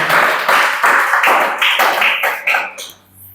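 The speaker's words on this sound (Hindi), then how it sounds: "चला ताली बजाओ जी" Close, crisp handclaps from an audience beat out in a steady rhythm, about seven or eight claps in a row, then stop abruptly.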